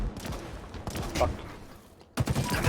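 Gunfire in the Halo Infinite video game, rapid bursts of shots hitting all around the player, loud and close, with a short lull before the firing resumes.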